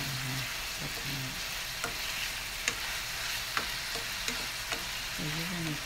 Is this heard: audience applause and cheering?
no